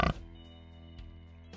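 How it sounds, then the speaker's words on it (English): A single short pig oink, cartoon-style, opens the moment, then gives way to a steady soft musical background with no further animal sound. "Pig"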